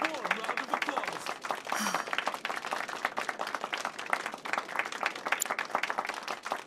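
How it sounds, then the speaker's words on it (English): Applause from a concert audience for a pianist's performance in the video game Final Fantasy VII Rebirth, dense steady clapping with scattered crowd noise filling the whole stretch at moderate level. "let's give our pianist a warm round of applause."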